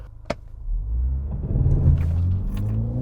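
A 2019 BMW X2 M35i building engine revs and rumble as it pulls away under launch control, a sharp click followed by a steady, loud low drone that swells as it accelerates, heard from inside the cabin with no talk.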